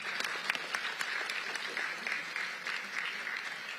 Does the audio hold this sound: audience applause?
yes